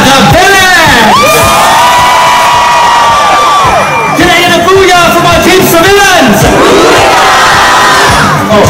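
A loud crowd at a high school reunion roars and cheers close by, with overlapping shouts, whoops and long sustained yells rising and falling in waves across the whole stretch.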